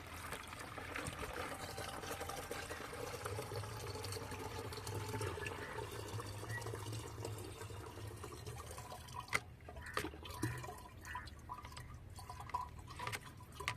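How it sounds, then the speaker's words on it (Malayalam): Liquid homemade fertilizer, strained through a filter, trickles and pours steadily into a garden sprayer for about fourteen seconds, a close, continuous watery stream with a few small drips and knocks near the end. "അതിനകത്തോട്ട് ഇത് വീണ്ടും നമ്മൾ അരിച്ച് തന്നെ ഒഴിക്കുവാണേ."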